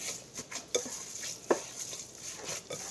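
Ingredients for beefsteak (bistek) are stirred and mixed in a bowl, giving soft scrapes and a few sharper utensil clicks against the container, quiet and close.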